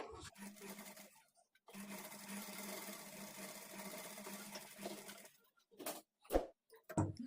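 A sewing machine stitches the front part of a blouse in a steady run of about three and a half seconds, with a shorter burst before it and a few brief clicks and knocks afterward.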